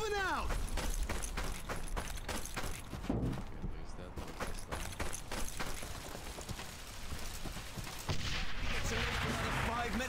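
Artillery and gunfire from Brothers in Arms: Hell's Highway, a WWII shooter: repeated sharp booms and shots keep thudding at a moderate distance over a busy battle background, with voices talking through much of it.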